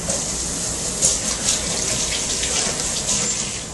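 Water runs steadily from a tap into a pie mixture, a continuous close splashing hiss for several seconds with no talking.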